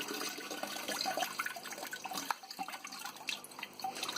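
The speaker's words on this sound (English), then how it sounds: "I'm going to stick that in there and give it a bit of a rinse" Aquarium substrate is rinsed under running tap water, a close, continuous splashing and trickling with small drips throughout.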